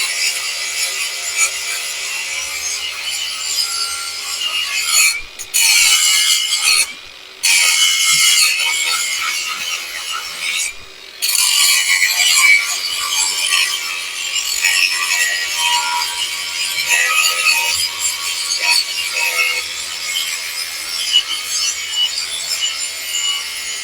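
A cordless brushless 4-inch angle grinder, a MASARU SCG-600, runs at high speed with quiet gears, giving a steady, close, hissing whine with a few brief cut-outs where the motor stops and restarts.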